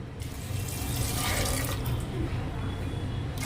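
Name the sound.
water poured onto soaked peas in a pressure cooker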